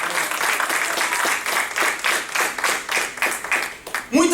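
A church congregation claps loudly in pulsing, rhythmic waves that come close and fill the room, and a voice breaks in at the very end.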